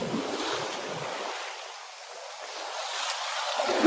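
Southern Ocean waves break at Salmon Beach in southwest Western Australia, a rolling surf wash that swells, eases briefly in the middle, then builds again, with wind buffeting the microphone and no voices.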